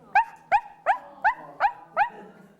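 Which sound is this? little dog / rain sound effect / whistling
little dog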